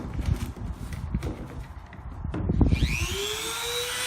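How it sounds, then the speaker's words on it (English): The end of a piece is trimmed off on a workbench: knocking and handling thumps, then a power tool spins up with a rising whine that carries on steadily, fairly loud and close. "I'm going to trim the end of that off here on my fancy workbench."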